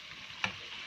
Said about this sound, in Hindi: और अब हम इसकी थोड़ी सी बुनाई करके, ज़रा चूल्हे की आंच तेज़ करके